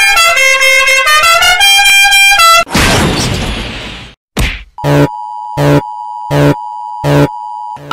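Aruba's emergency alert system alarm tone: a loud electronic sequence of rapid stacked beeping tones, then a burst of harsh noise and a sharp bang, followed by five evenly spaced pulsed beeps over a steady held tone.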